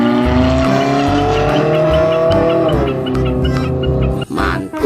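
A toy race car plays a loud engine effect: steady revving that dips in pitch, followed by brief tire-squeal bursts near the end, with no speech.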